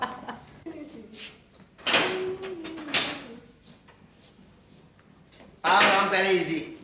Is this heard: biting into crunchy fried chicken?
no